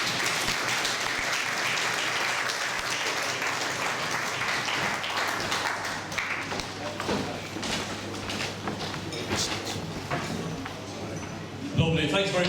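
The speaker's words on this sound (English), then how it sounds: "Another round of applause here for two brave women and all the volunteers at Howley" Sustained audience applause at a mental health speeches event, dense clapping from a room full of people holding steady for several seconds, with a brief voice emerging at the very end.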